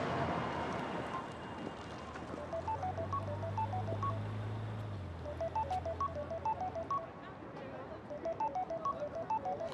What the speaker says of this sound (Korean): 이렇게 벨소리만 울려도 겁이 나네요.